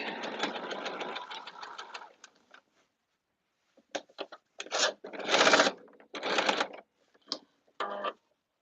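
A sewing machine stitches a caftan, running steadily for about two seconds, then falling silent before several short, stop-start bursts of stitching, close up.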